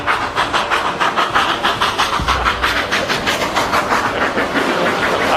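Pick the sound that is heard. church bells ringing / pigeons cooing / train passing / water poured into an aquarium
train passing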